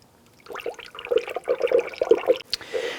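Antifreeze pours into the expansion tank of a 2004-2008 Acura TL, a gurgling, bubbling flow of liquid filling the reservoir in uneven glugs, close and moderately loud.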